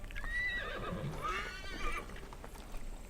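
A horse in the Assassin's Creed Valhalla video game gives a loud, wavering whinny while its hooves clip-clop steadily underneath, fairly close.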